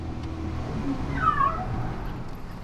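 A single drawn-out cat meow rises and falls near a harbour, moderately clear against steady low background rumble, with no talking.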